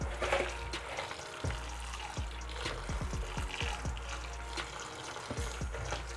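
Rice being washed by hand in a bowl of water in a Nigerian home kitchen before cooking native palm oil rice: steady close sloshing and swirling of water with soft grainy rattles and occasional splashes, no talking.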